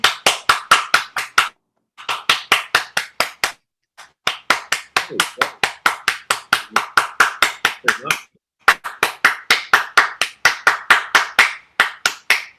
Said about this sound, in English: Somebody else is clapping.